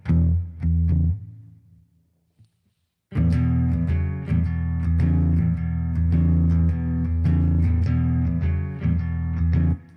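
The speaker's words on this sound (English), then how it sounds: "If I'm just playing an E blues," Electric guitar playing an E blues, starting with a few picked notes and a brief pause before settling into a steady, rhythmic, close-miked groove of chords and riffs.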